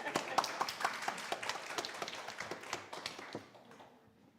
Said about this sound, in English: Yeah, clap, clap, clap.